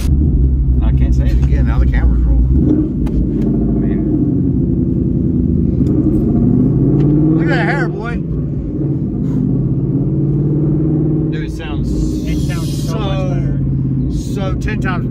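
Ford Mustang GT S550 exhaust rumbling loud and close in a deep, steady idle with a few slight swells, running continuously under people talking.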